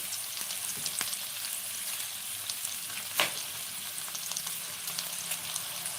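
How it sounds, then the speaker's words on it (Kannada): A whole unpeeled garlic bulb and cumin seeds fry in a pan for sprouted gram sambar, giving a steady, dense sizzle with one brief sharper crackle midway. "ನೋಡಿ ಒಂದು ಗೆಡ್ಡೆ ಬೆಳ್ಳುಳ್ಳಿ ಹಾಕೋತಾ ಇದ್ದೀನಿ ಸಿಪ್ಪೆ ತೆಗೆದಿಲ್ಲ ಹಂಗೆ ಹಾಕೋತೀನಿ ಸ್ವಲ್ಪ ಜೀರಿಗೆ ಹಾಕೋತಾ ಇದ್ದೀನಿ"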